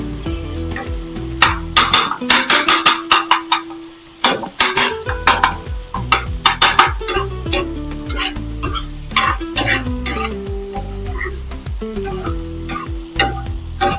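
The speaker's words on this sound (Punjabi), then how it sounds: "ਔਰ ਇਹਨੂੰ ਅੱਛੀ ਤਰ੍ਹਾਂ ਮਿਕਸ ਕਰ ਦੇਵਾਂਗੇ।" Egg shami mixture sizzles in a pan while a utensil stirs it, sharp scraping clinks and stirring strokes in irregular bursts over a steady frying hiss, close and loud, with a short lull near the middle.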